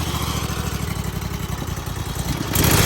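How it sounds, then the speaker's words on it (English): A small gas-powered engine runs at low RPM with the choke set, a steady rattling putter with fast regular pulses that swells louder near the end, with no talking. "I'm gonna turn the choke, the RPMs all the way down. I'm gonna barely turn it on about halfway, like this."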